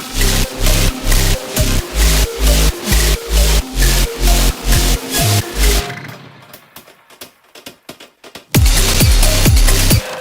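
Gritty, clipped, filtered and ring-modulated saw wave synth tones pulse in a tight rhythmic pattern over punchy drums, drop to sparse clicks midway, then return loud and driving.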